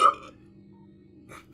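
A short burp-like gulp from a Metroid Prime game sound, brief and fairly close, followed by near silence and then a voice briefly at the end.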